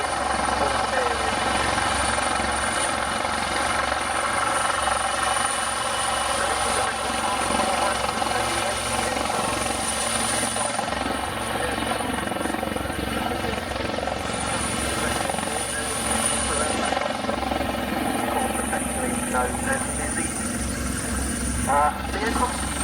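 A Westland Lysander propeller aircraft flies at the Cosford air show, a steady droning engine hum with harmonic whine holding at a fairly even level throughout, loud and continuous with no pauses.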